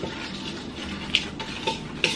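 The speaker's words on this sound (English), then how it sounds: "so now I'm going to mix all this together." Breading ingredients for a Cornish hen are stirred together in a bowl, a steady scraping swish with a few sharper clinks of utensil against the dish, close and fairly quiet.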